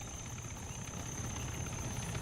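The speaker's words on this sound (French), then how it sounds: "On est survolé par un hélicoptère non identifié" A helicopter in the Arma 3 video game drones steadily overhead, a continuous low engine and rotor rumble with a faint high whine, holding even and moderately loud throughout.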